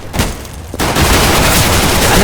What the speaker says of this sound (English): That's a grenade thrown in